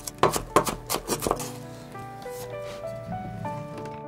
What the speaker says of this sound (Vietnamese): Hành tím này mình cũng băm nhuyễn luôn ha.